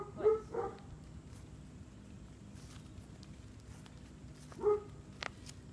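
A playful dog barks in short bursts, two quick barks at the start and one more a few seconds later, close by against a quiet background.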